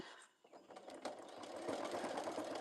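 A sewing machine double-stitches a fabric bee pouch, starting up and running in a fast, steady mechanical whir that holds close and even to the end.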